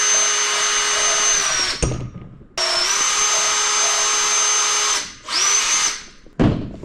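A valve lapping tool on a power drill grinds a valve seat on a Toyota Prius. The loud whining runs in several long bursts with short pauses between them, close by and with no talking.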